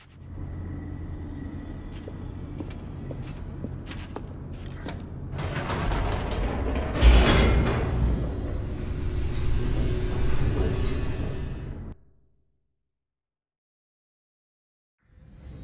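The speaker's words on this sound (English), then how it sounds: "The elevator raced downward" An elevator in The Stanley Parable: Ultra Deluxe descends with a continuous mechanical rumble, creaks and grinding gears, a heavy clunk midway, then the noise cuts off abruptly into silence before a faint return.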